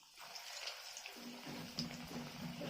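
Radish and egg pakoras are dropped one by one into hot oil over a gas flame, and a soft, hissing sizzle starts abruptly and continues steadily, quiet and close.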